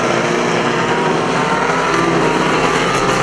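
Dense, steady engine roar from a pack of classic banger racing cars lapping the Kings Lynn speedway oval, including a Datsun 180B on the back straight, loud and continuous with overlapping motors and no clear break.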